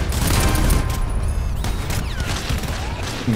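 Enemy gunfire in the co-op shooter GTFO, a loud dense fusillade of overlapping shots and impacts that gradually thins out, with no talking.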